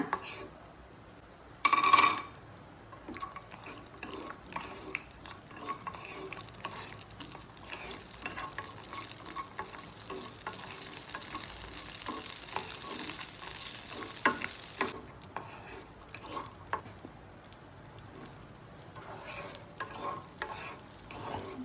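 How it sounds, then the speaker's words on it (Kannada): Cashews, raisins and almonds frying in a pan for rice kheer (payasa), with a steady low sizzle and occasional stirring scrapes and utensil clinks, plus a brief louder clatter near the start. "ಗೀರ್ಬೀಜ, ದ್ರಾಕ್ಷಿ, ಬಾದಾಮಿಯನ್ನು ಹುರ್ಕೊಳ್ಳೋಣ"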